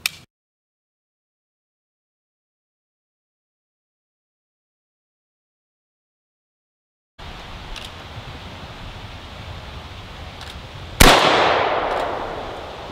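A single AKM rifle shot cracks out loud and sharp, then rings off in a long decaying tail, following a long stretch of silence and then steady outdoor background noise.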